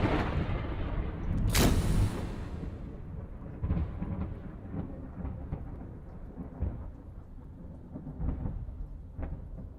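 A heavy thunderclap cracks near the start, then rolls and rumbles on under steady rain, with smaller rumbles recurring.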